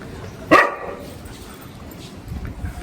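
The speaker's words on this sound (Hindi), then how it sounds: "जीतू थोड़ा सा हिलता है तो ये भौंकता है" A Labrador gives one sharp, loud bark up close, followed by quiet indoor background.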